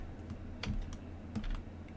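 Computer keyboard typing close to the mic during a game-build stream, a few clustered bursts of clacking keystrokes over a low steady hum, with no voices.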